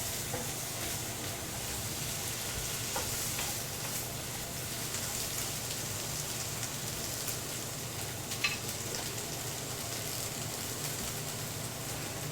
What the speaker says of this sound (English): Just gonna steam those nicely.